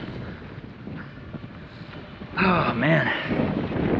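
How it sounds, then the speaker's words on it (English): Heavy wind buffeting the microphone in a constant rushing roar from a strong headwind of about 30 miles per hour while riding a Specialized electric bike, with a man's brief exclamation partway through. "It's like a 30-mile-an-hour headwind right now."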